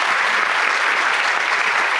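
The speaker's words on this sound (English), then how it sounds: "So can we give them all a round of applause?" An audience at an annual conference workshop claps steadily in a sustained burst of applause, dense and even throughout, with no talking over it.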